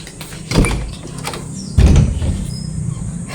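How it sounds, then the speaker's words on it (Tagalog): A door is opened in a hot Filipino home, giving a couple of close, heavy knocks and scraping thuds with a brief rolling slide, heard alone without talk. "Buksan ko palang pinto."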